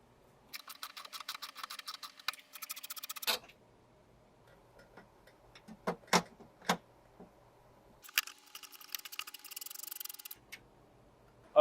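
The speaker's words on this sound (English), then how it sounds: "we're going to go ahead and start removing the 10mm bolts that are on the bottom of the regulator." A hand ratchet backs out 10mm bolts from the bottom of a Porsche Boxster window regulator inside the door. Two runs of fine, rapid clicking are separated by a quiet gap with a few isolated knocks.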